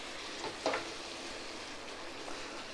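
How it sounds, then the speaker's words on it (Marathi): Fried rice being stirred with Schezwan chutney in a hot pan, a soft continuous sizzle with a brief scrape of the spatula, fairly quiet and without talk. "छान मिक्स करून घेऊया।"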